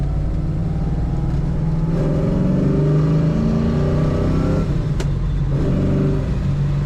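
A 1970 Dodge Challenger R/T engine pulls hard out of a corner and rises in pitch as it accelerates, close and loud, dropping briefly at a gear change before building again.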